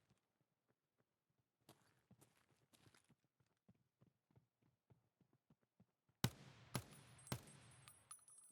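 Footsteps in the video game Escape From Tarkov patter in quick, faint, irregular taps, running closer before several sharp, loud bangs of gunfire break in near the end; no one talks.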